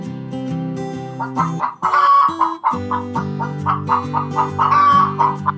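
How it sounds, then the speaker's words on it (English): A hen clucks repeatedly over steady background music, a run of close, bright clucks with a louder squawk in the middle, no voices. "hen,"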